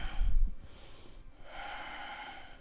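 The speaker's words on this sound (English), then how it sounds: "Breathe in and breathe out." A person breathing slowly during a yoga class, a close, soft audible inhale through the nose followed by a long airy exhale, calm and unhurried with no talking.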